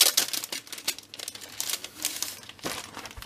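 Crinkling and crumpling of paper or plastic wrapping, close and irregular, with soft tearing rustles in short bursts.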